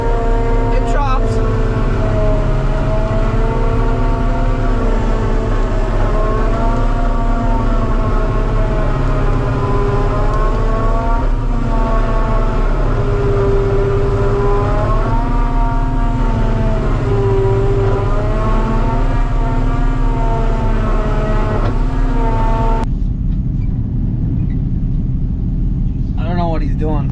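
A forage chopper runs heavily while chopping damp crop, a loud, constant droning engine and machinery roar with shifting tonal whine, close and unbroken until it cuts off near the end.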